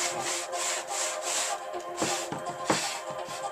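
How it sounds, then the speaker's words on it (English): An old t-shirt rag rubbed over paint-washed new wood, producing a steady, close, scratchy swishing that runs continuously, with a few heavier strokes near the end and no voices. "Now let's see if I take a rag. Old t-shirts are perfect. And rub it."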